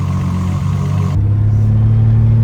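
A turbocharged VL car engine revs loudly and close during a low-boost test drive, a steady deep drone that shifts to a heavier, lower tone partway through.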